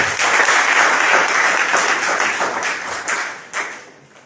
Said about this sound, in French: On peut encore applaudir pour vous.